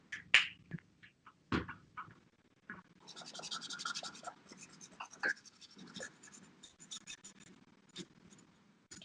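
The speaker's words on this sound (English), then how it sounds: "Can you hear the sound of my pencil?" A pencil scratching across paper during an art session, with close, quiet strokes in short bursts and scribbles, some brief taps and pauses between them.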